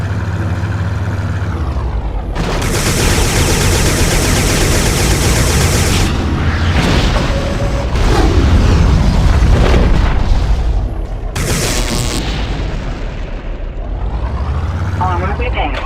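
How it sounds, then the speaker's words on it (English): Tether-guided missiles launched and detonating in the 1999 tank combat game Recoil, loud whooshing launches followed by booming blasts and rushing bursts over a droning engine, several in quick succession. "Tether guided missiles."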